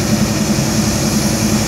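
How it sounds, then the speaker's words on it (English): Diesel locomotive engines idling while laid over and tied down at Greenville rail yard, a loud steady low rumble with a throbbing pulse, close by, with no voices. "engine idling periodically."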